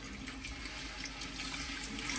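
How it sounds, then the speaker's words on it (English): Water pours steadily into a pan of gravy, a continuous close splashing rush with no talking over it. "we can add our water"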